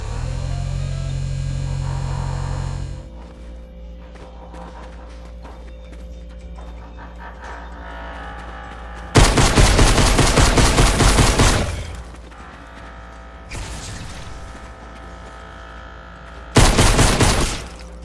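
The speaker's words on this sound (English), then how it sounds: "Alexa, turn on the turrets." Automated turrets in Fortnite, firing in loud sustained bursts of rapid shots, three separate volleys breaking a quieter humming background.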